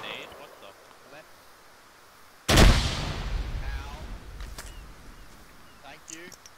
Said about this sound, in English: I'm throwing a grenade into those rocks.